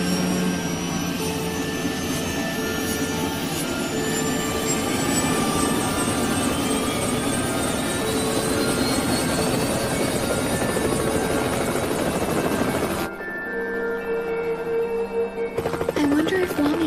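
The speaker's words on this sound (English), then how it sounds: "Us flying by helicopter, I mean." A helicopter flying in an anime episode, a loud sustained rotor and turbine roar with a rising whine that holds for most of the stretch before cutting to quieter sounds near the end.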